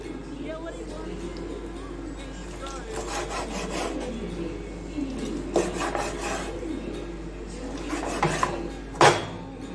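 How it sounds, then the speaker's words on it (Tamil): A knife cuts boiled goat intestine into small pieces for a mutton kudal gravy, giving soft rubbing and scraping strokes against a board, with a few sharper knocks near the end over steady background noise. "இப்போ இதை நல்லா பொடி பொடியாக கட் பண்ணிடலாம்."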